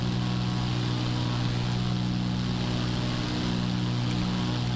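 Steady propeller engine drone of a Cirrus SR-22 light aircraft in Microsoft Flight Simulator 2024, a constant low harmonic hum with airy hiss on top, unchanging and alone throughout.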